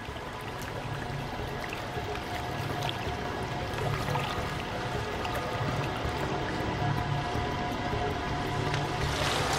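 A magician plunges into a water tank for an escape act, followed by a continuous gushing and sloshing of water spilling over, steady and moderately loud for the whole stretch with no talking.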